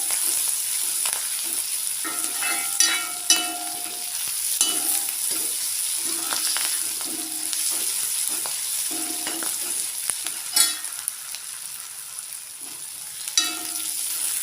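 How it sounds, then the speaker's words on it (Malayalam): Snake gourd sautéing with grated coconut and curry leaves in a pan, a steady soft sizzle under repeated scraping and clinking stirs of a spatula, close and continuous. "നന്നായിട്ട് വഴറ്റിയെടുക്കാം."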